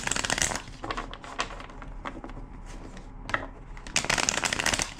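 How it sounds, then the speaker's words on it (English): A deck of cards, used for a love-themed card reading, is riffled and shuffled in repeated crisp bursts of papery flutter, close and fairly loud with short pauses between shuffles. "Two more shuffles."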